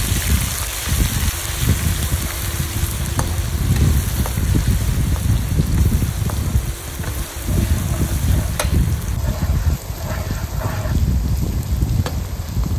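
Ginger garlic paste fries in hot oil while chicken pickle is being made, giving a steady close sizzle with occasional stirring scrapes throughout.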